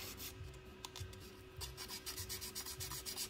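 Sandpaper rubs over a motorcycle spark plug from a 1985 Yamaha Vmax 1200 being cleaned, a close, quiet rasping in short repeated strokes with no talk.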